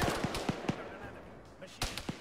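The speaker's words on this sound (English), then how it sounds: "Enemy fire." Scattered enemy rifle shots in the military shooter ARMA 3, a few sharp cracks spaced irregularly, moderately distant and fairly faint, with a voice speaking alongside.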